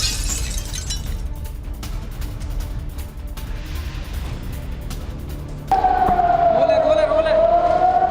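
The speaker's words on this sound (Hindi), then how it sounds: "अगर आप आवाज सुन रहे हो तो सायरन की आवाज आ रही है" A wailing air raid siren rises in at the end, loud and sustained with a steady pitch, over a noisy crowd and ongoing background rumble at an airport in Israel.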